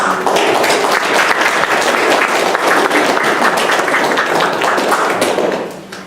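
Steady, dense applause from an audience, sustained for several seconds before tapering off at the end.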